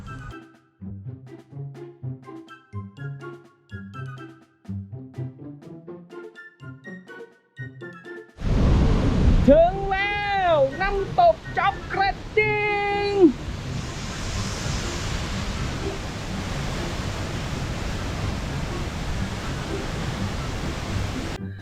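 A person talks, then a waterfall in the rainy season at Thong Pha Phum, Thailand, takes over as a loud, steady roar of rushing water. Brief high tonal sounds ring out over it early on, and the roar continues unchanged to the end.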